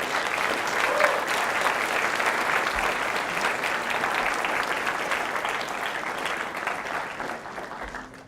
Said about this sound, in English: So please welcome both of them with a big round of applause.